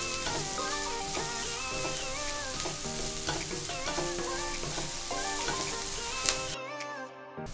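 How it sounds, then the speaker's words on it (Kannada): Onions frying in a pan and being stirred until golden brown: a constant close sizzle with scraping stirs and utensil knocks, and a short sharp clink before the sound drops away near the end. "ಈರುಳ್ಳಿ ಗೋಲ್ಡನ್ ಬ್ರೌನ್ ಕಲರ್ ಆಗೋ ತನಕ ನಾವೀಗ ತಿರುಗಿಸ್ತಾ ಇರಬೇಕು."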